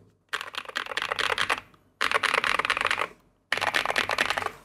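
Fast typing on an Epomaker Shadow-X plastic-cased keyboard comes in three dense bursts of clacky keystrokes, each a second or so long, separated by short pauses, close and clear with no talking.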